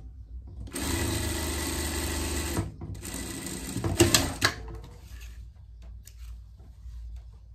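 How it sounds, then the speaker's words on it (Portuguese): A sewing machine runs a safety seam through fabric for a small pet costume, whirring steadily in two long bursts with a brief pause between, then trailing into quieter handling noises. "Passar uma costura de segurança aqui."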